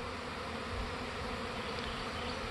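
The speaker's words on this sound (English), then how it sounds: "I really didn't want this hive to swarm on me." Honey bees buzz steadily around a hive whose colony is close to swarming, a dense, continuous close-up drone of many insects with no speech over it.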